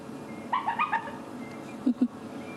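Spotted hyena cubs give a short run of high yips, a quick cluster of four or five calls followed by two lower squeaks, faint over a quiet outdoor background.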